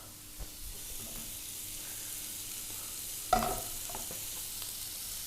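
Pork belly fries in butter in a pan, a steady low sizzle running throughout with a sharper burst of crackle and stirring near the middle, close by and with no talking.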